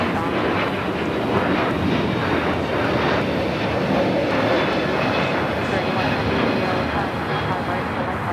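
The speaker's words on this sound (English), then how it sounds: "Couple of heavy takeoffs happening here on the south side." A heavy airliner takes off from the south side of Los Angeles LAX airport, its jet engines producing a broad, continuous roar with wind buffeting on the microphone, steady and loud for the whole stretch.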